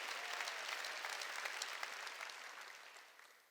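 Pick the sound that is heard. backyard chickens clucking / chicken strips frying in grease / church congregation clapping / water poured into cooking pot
church congregation clapping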